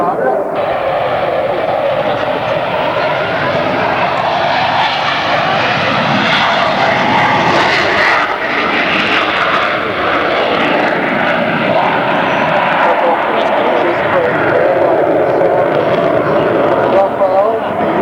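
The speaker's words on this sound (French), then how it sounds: "RAFALE, the new generation multi-mode combat aircraft from Dassault Aviation." A Dassault Rafale combat jet flies at the 1999 Paris Air Show, its engine roar loud, close and unbroken, swelling and shifting slightly as it passes overhead.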